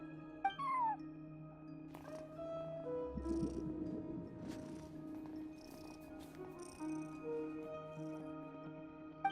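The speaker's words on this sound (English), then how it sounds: "No one except for a cat watching over the front desk." A cat in the Genshin Impact video game meows softly a few times and purrs over quiet ambient game music, with short, faint chirps spread across the scene.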